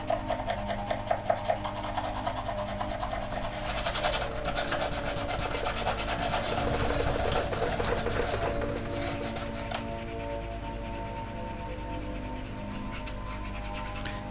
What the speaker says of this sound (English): I'm going to go in with a series of sanding files, and I'm going to go ahead and get sanding.